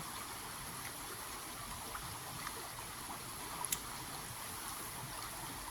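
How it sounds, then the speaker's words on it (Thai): A city-centre stream that flows year-round, heard as a steady, faint broadband wash of running water with no talk over it. "ตรงนี้ก็เป็นลำธาร"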